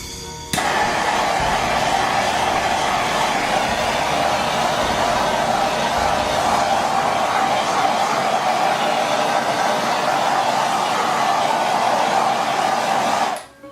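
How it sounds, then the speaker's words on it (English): A propane torch roars steadily over a wet acrylic paint pour, a constant close, loud blowing hiss that runs unbroken for about thirteen seconds before cutting off abruptly. "By the way, I use a propane torch."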